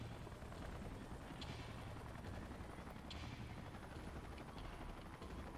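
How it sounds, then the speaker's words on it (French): Helicopters arriving in the video game Xenoblade Chronicles X, heard as a steady, dense rotor and engine drone that holds at an even level throughout, with faint higher whooshes passing over it. "Appelons les hélicoptères de récupération pour qu'ils ramènent tout ça."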